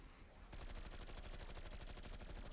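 Dual pistols fire nonstop at a zombie horde in Call of Duty zombies mode, a rapid, loud, dense rattle of shots that kicks in after a brief quieter moment and carries on to the end.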